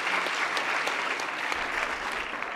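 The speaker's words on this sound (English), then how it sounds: "Please give a hand of applause." Audience applause at the close of a panel session during an aviation industry week event, a dense, steady wash of many hands clapping at close range, sustained evenly and alone throughout.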